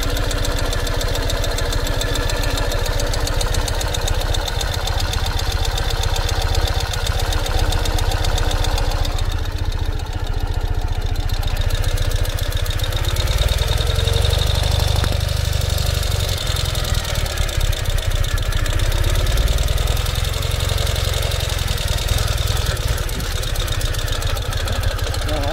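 A 2021 Ural cT motorcycle engine drones loud and steady while riding, with a downshift shifting the pitch of the low rumble partway through and wind noise throughout.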